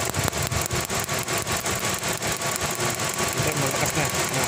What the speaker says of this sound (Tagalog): pag ganyan nalagatik yung makina mo